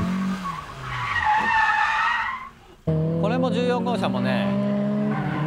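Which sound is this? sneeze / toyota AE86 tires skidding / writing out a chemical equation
toyota AE86 tires skidding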